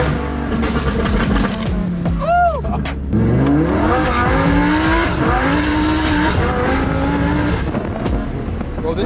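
A tuned Lamborghini Huracan revs hard with a loud, rasping exhaust that rises and falls through sharp pitch sweeps, close and aggressive throughout, with faint voices underneath.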